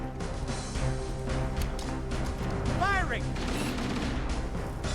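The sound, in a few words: gunfire in the video game Halo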